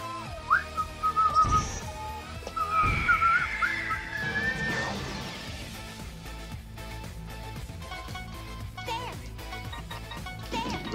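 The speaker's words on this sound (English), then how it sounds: "the things I'm whistling are getting out of sync with the video" Person whistling a tune over game background music, the whistled notes clearest in the first few seconds and fading into the music afterward.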